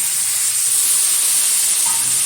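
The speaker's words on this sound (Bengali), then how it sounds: "মশলা নেওয়া বাটি একটু জল দিয়ে দিলাম" Water poured into a pan of frying spice paste of onion, ginger, garlic, cumin and chilli sets off a steady, loud steam hiss that runs unbroken from start to finish, with no talk.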